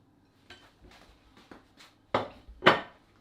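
Pieces of twice cooked pork being plated onto dishes: a string of soft scrapes and light clinks of utensils against crockery, growing into two louder, close clatters near the end, with no talking.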